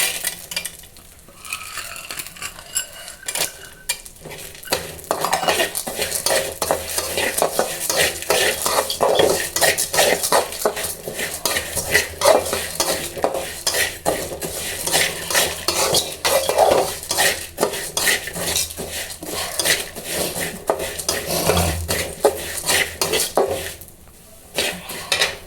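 A spoon stirs and scrapes chana dal as it dry-roasts in a pan for Udupi-style sambar, giving a steady, close clatter of lentils and metal with a soft sizzle running almost continuously.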